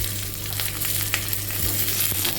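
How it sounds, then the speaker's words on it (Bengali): Onions sizzling and frying steadily in a pan for a Bengali mango chicken dish, a continuous close hiss with a faint low hum beneath and a few soft stirring clicks. "এবারে আমি পেঁয়াজগুলো দিয়ে দেবো,"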